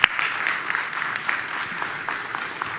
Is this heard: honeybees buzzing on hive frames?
no